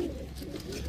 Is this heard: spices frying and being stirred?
no